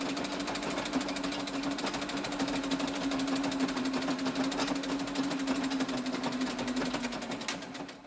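A sewing machine stitching patchwork squares for a skirt, a steady fast mechanical chatter with an even humming tone running continuously for several seconds before slowing at the end.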